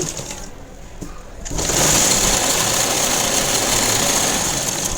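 An electric sewing machine stitches a plain blouse, leaving a half-inch gap from the previous seam; after a short lull, a loud, close, steady high whir starts and runs without pause.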